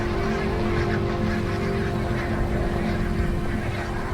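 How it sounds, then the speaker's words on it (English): Barnacle geese honk repeatedly in a dense, continuous flock chorus at a Scottish river on winter arrival after their long migration, steady and fairly loud throughout. "Every winter, barnacled geese arrive right on cue at the same Scottish river."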